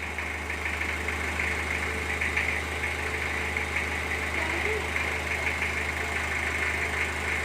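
A long-parked car's engine running at a steady idle, a constant low rumble with slight vibration, close by, while someone talks over it.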